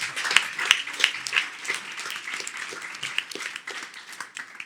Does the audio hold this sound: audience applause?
yes